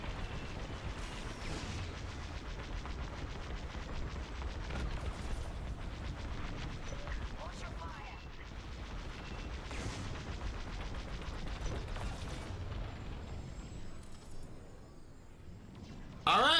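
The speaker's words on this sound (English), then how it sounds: "Power to the lasers. Fire the lasers." Starfighter laser cannons firing in the space combat game Star Wars: Squadrons, a dense rapid stream of zapping shots over a rumbling engine bed, with occasional bursts and a sharp blast at the end; a voice speaks briefly.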